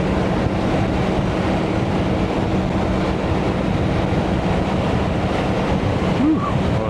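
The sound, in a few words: crosswind gusts buffeting a motorcycle rider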